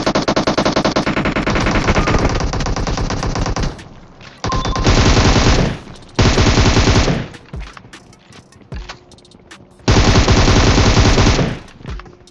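A PP-Bizon submachine gun is fired in a video game in several long, loud, rapid bursts, the first lasting nearly four seconds, with short gaps of quieter game ambience between them and no voices.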